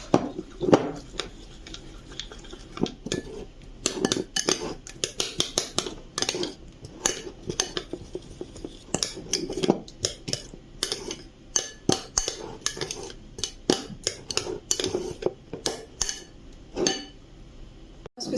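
A composed salad seasoned with salt and pepper is tossed and mixed with utensils, giving a long run of busy, close clinks, scrapes and knocks in irregular bursts, fairly loud and with no talk.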